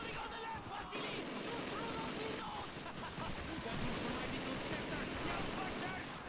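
Call of Duty gunfire crackles in continuous bursts, like a busy firefight, while a player talks over the shooting.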